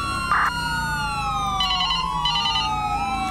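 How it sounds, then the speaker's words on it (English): A police car siren in GTA V wails loudly and close, its pitch sweeping slowly down, with short high electronic yelp bursts cutting in. "Such low speed, we don't really need the sirens, to be honest."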